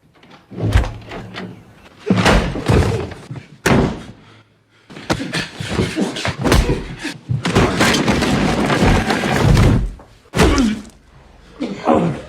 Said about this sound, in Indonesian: dibangunkan oleh seseorang yang mengetuk pintu rumahnya